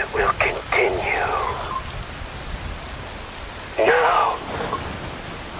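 A steady, even rain hiss runs throughout, and a voice speaks briefly over it twice.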